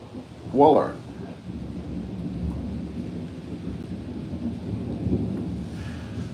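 Thunderstorm on a rainy night: a rolling thunder rumble near the start over steady rain hiss that continues throughout, fairly loud and close.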